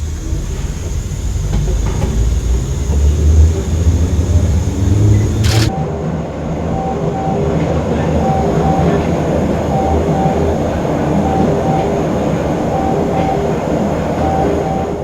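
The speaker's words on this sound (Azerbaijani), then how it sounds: "Sonra Prezident İlham Əliyev metro ilə avtovağzal stansiyasından Memar Əcəmi stansiyasına getdi." Baku Metro train running through the tunnel between Avtovagzal and Memar Ajami stations, a steady loud rumble with rail clatter and an electric whine, with a sharp transient near six seconds.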